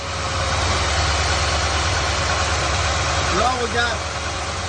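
A 1974 GMC Jimmy engine runs steadily after its fuel has been primed, a continuous, fairly loud idle rumble heard up close, with a person talking briefly near the end.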